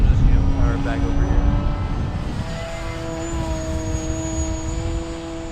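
An RC model airplane's propeller motor whines overhead as the plane flies with its flaps retracted, the steady tonal buzz shifting pitch as it powers back over, with people talking nearby.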